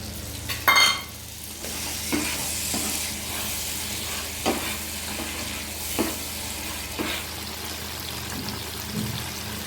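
Spice paste frying in oil in a pan while being stirred for an okra dish: a steady sizzle throughout, with a scraping stir scuffing through every second or so and an early louder clatter.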